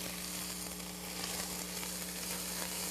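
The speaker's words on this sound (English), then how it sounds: "you add 2 tablespoons of minced garlic and 2 minced garlic cloves. Put those in the pan. You can already hear it sizzle." Minced garlic sizzles in olive oil in a pan, a dense, steady crackling hiss that runs unbroken and close.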